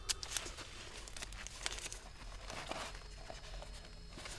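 Tape crinkles and tears in short bursts while it is wrapped around an air layer cutting on a plant, covering a crack, with faint rustling in between, close and fairly quiet.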